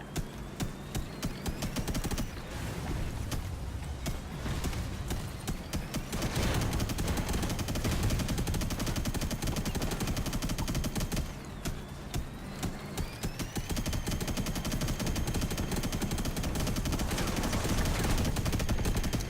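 Rapid automatic gunfire from combat robots in the Robocraft video game crackles almost without pause in dense bursts, with engine hum beneath and brief lulls between volleys.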